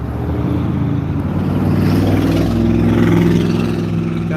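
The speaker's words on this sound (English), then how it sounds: "God damn, that truck's loud." A loud truck engine passes close by, a steady heavy rumble that swells and fades over several seconds, heard alone.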